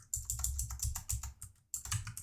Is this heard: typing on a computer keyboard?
yes